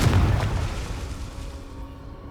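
A Confringo spell bursts into an explosion in Hogwarts Legacy, a single heavy boom with a rumbling low-end tail that slowly dies away.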